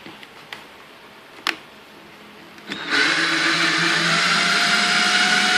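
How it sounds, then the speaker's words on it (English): A cordless drill drives the Z-axis platform of a homemade CNC mill. A few light ticks and taps come first, then the drill starts and holds a steady, loud whirring motor whine to the end. "Driving it with my cordless drill here."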